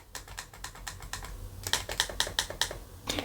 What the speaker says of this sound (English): we do have left and right clicks, and they are actually clicks